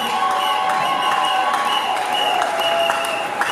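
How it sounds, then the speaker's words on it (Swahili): An audience at a bishop's investiture in Bukavu claps loudly and continuously, steady dense applause with a crowd murmur beneath and a sustained tonal voice or music line running through it. "Piga makofi yako kwa heshima."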